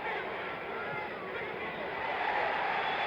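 Boxing arena crowd roaring through round 5 of the 1975 Muhammad Ali vs Ron Lyle heavyweight fight, a dense, continuous wash of cheering that swells slightly toward the end.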